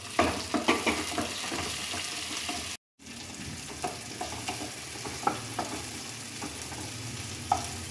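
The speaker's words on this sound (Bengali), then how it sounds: "এবার আমি টমেটোগুলো এর মধ্যে ঢেলে দেব।" Tomatoes tossed into sizzling ghee and browned onions, a loud steady fry with repeated scraping stirs and clacks of a spoon; a brief silent gap near the start, then continuous sizzling with rhythmic stirring.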